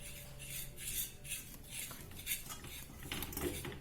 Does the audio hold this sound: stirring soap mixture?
yes